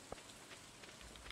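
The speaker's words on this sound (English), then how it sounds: "Ooh, rain." Rain falls in the Stardew Valley video game as a soft, steady patter with faint scattered droplet ticks, quiet and with no talking.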